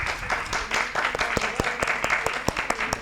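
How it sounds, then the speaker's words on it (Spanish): Seminar participants applaud, a steady mix of clapping hands with sharper individual claps standing out, filling the room throughout with some voices underneath. "un aplauso para todas las que participamos"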